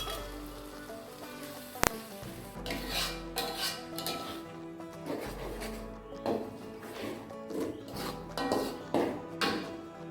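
A utensil stirs blended spice paste in a cooking pan for a pork saksang dish, producing repeated scraping and soft clinking strokes up close, with one sharp metallic clank near the start.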